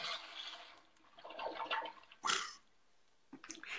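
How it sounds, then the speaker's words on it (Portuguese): Toilet flush in a bathroom: a short burst of rushing water surges up, then cuts off, followed by a quieter splash of refilling water, faint and close. "Essa descarga, Wellington, essa dá lá em Miami."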